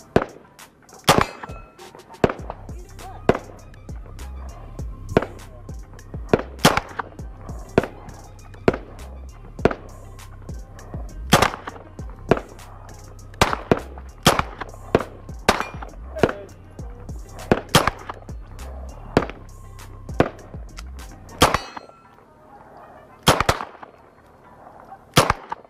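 Handgun shots crack out at a shooting range, around twenty sharp, close reports fired at irregular intervals, some in quick bursts, over a low background hum that drops away near the end.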